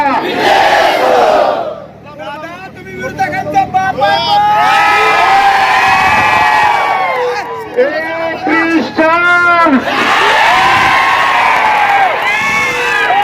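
A large crowd roars, whoops and shouts slogans at a political victory rally in Pandharpur, loud and continuous with chanted calls rising and falling throughout.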